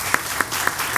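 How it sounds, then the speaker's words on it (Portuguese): Audience applause at a cultural conference session, a short burst of scattered claps with four distinct sharp hand claps standing out over a soft crowd wash. "merece uma enorme salva de palmas por todo o trabalho que ele fez"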